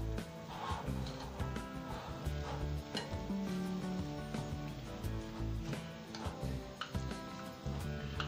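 Radish pakora batter with chopped coriander and nigella seeds being mixed by hand in a bowl, producing soft irregular squelches and light clicks close by against a busy, quiet background.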